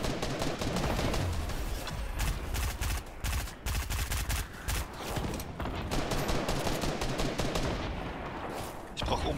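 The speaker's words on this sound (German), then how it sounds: "Da hinten schießt ich jemand." Rapid gunfire in Fortnite rattles in dense bursts of repeated shots, near and fairly loud, continuing almost without pause through the whole stretch with brief gaps.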